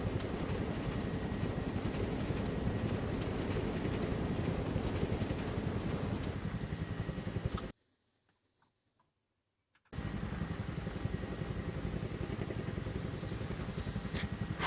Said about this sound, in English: what was wrong with that helicopter? Sounds like transmission's about to fail.